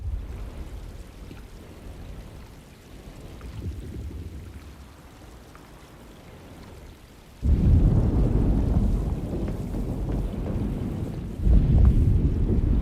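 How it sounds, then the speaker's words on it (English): A thunderstorm with rain in the Alone in the Dark video game: a low rumbling wash of rain and wind, quieter at first, then a heavy surge of deep thunder rolling on loudly, with another swell near the end. "Looks like a storm's coming."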